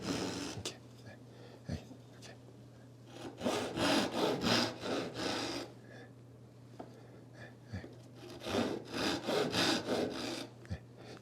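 A hand saw cuts a wooden lattice bar for a tortoiseshell-pattern window frame. It makes two clusters of close, rhythmic rasping strokes, with scattered light taps and quiet handling sounds between them.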